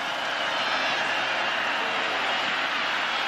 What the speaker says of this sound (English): Crowd trying to make some noise to keep the pack in this game.